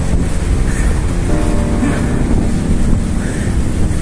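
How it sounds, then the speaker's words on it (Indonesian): Strong gusting wind buffets the microphone of a rider cycling outdoors, a loud continuous low roar that covers the whole stretch with no talking. "Ini tandanya anginnya kencang banget."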